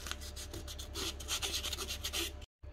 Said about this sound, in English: Just use a bit of wet and dry to clean up these surfaces, make sure they're free.